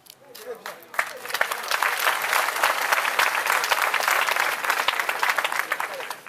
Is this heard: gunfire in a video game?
no